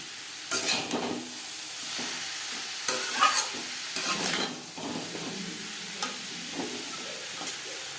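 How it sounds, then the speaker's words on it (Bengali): Grated beetroot and carrot sizzle in a pan while being stirred with salt, turmeric and spices for vegetable chop filling, a steady hiss broken by repeated spatula scrapes and clinks. "লবণ হলুদ ও মশলা বিট গাজরের সাথে বেশ ভালো করে মিক্স করে দেবো"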